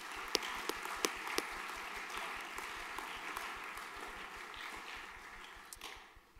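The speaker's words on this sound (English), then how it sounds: "Round of applause, please, for these boys" An audience at a junior school graduation ceremony applauds the graduating boys, a steady, fairly distant patter of many hands that fades out near the end.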